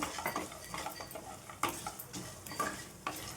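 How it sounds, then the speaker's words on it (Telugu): Close-up stirring in a pan, with a spatula scraping and clinking against metal in irregular strokes over a light sizzle of ingredients frying for tomato rasam. "ఇప్పుడైతే ఇవి ఫ్రై చేసుకుందాం"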